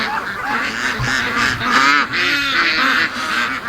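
Free-range ducks call nearby on grass in a run of loud, raspy honking quacks, several birds overlapping in quick irregular bursts with no pause.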